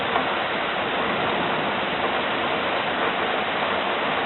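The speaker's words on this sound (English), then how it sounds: "It's really heavy rain here in Finland." Heavy rain pours steadily during a thunderstorm in Finland, a dense, unbroken roar of water close by, filling the streets with puddles, with no pauses and no voices.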